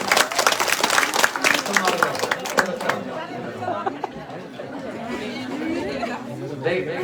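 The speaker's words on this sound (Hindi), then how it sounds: "ताली ताली बजाते हैं।" An audience at an evening devotional storytelling gathering in Himachal near Hamirpur claps in a quick burst under overlapping chatter, then the applause fades into continued murmuring voices.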